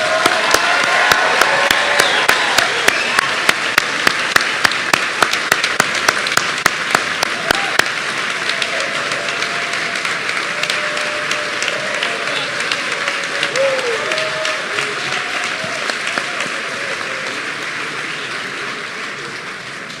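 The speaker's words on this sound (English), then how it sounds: "let's give these students one more round of applause." An auditorium audience at a medical school white coat ceremony gives a long round of applause for the new medical students. Steady crowd clapping with sharp individual claps lasts about twenty seconds, with voices murmuring underneath.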